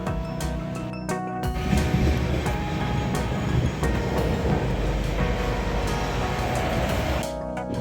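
Inside a moving passenger train at night, travelling from Machilipatnam to Secunderabad, a steady rumble of wheels and rattling carriage noise runs continuously, with occasional clicks and metallic clanks.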